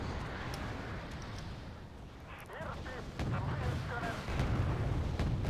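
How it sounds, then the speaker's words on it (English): Incoming missiles exploding in the Cold War strategy game Wargame Red Dragon, heard as distant booms and scattered blasts over a rumbling battlefield bed, growing heavier toward the end while a voice speaks. "There's a lot of missiles coming this way."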